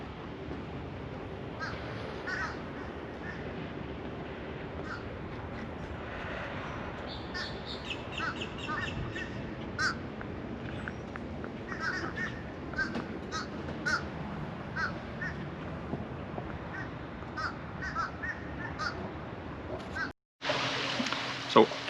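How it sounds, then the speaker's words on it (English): Crows caw repeatedly at varying distances over a steady bed of other birdsong in a gated residential community in Estero, Florida, with a brief break near the end. "There's just tons of birds in this community,"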